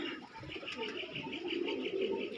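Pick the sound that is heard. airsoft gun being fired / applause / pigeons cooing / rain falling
pigeons cooing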